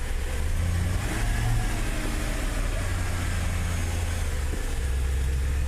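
A manually swapped Audi D2 S8 runs with its wheels turning, giving a steady, loud low engine rumble and hum that holds evenly throughout, with no separate rubbing noise.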